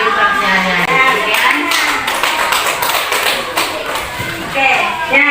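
An audience at a primary school gathering on positive culture claps steadily and fairly loudly throughout, a dense patter of many hands with voices mixed in.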